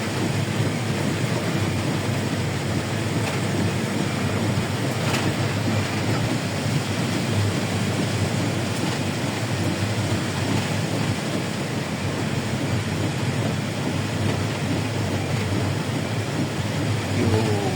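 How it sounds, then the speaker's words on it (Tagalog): Steady, dense downpour roaring without a break, a thick wash of noise like heavy rain drumming on a roof or vehicle, while travelling to General Trias, Cavite. "Lakas ng ulan oh"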